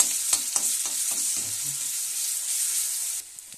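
Garlic fries in hot oil with a steady close sizzle, and a spoon scrapes and stirs it in quick repeated strokes for the first part before the hiss settles and drops quieter near the end.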